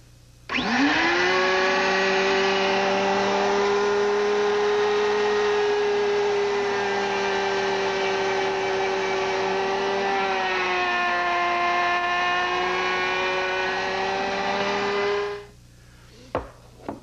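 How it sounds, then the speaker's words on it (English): A power tool plunge-cutting a mortise into wood, a loud, steady whine that spins up quickly, holds for about fifteen seconds with a slight drop in pitch midway, then stops, followed by a couple of faint clicks. "I'll make a plunge cut and a mortise that'll end up about an inch and a quarter long"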